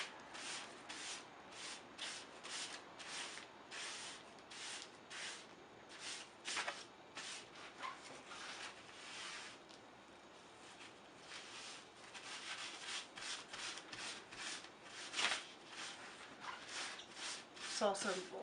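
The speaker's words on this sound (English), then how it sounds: "so I think we're going to do a little bit of that rubbing" Paper is rubbed by hand during preparation for dyeing, giving a steady run of soft, dry scraping strokes in an irregular rhythm, close and quiet.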